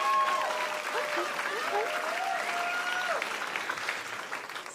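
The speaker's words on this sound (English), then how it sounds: "Applaud if you believe time is money." An audience claps at a comedy podcast show, a steady patter of applause with a voice speaking briefly over it and a tonal murmur underneath.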